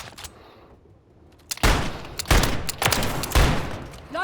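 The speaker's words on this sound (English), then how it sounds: "that's the downside to having such a loud weapon, is like everybody sees you on the mini-map" Loud magnum gunfire in Call of Duty: Modern Warfare 3, heard as several heavy, booming close shots a fraction of a second apart, following a brief quieter lead-in.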